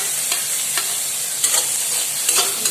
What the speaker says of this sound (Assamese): এইখিনি আকৌ অকণমান লাৰি দিম